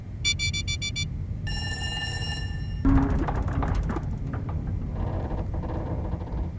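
Sounds from the game Duskers: rapid beeping tones, then a sustained alarm-like chord, followed by creaking metallic thuds and groans of a spaceship hull straining before a room depressurizes.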